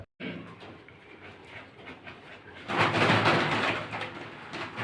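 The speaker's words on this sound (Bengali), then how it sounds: "ফিলব্যাক কবুতর ভুলো বার ডাবল বার মাত্র আটশোশো টাকা এই জোড়াটা" Fillback double-bar pigeons cooing and fluttering close by, with a louder rush of noise building in the second half.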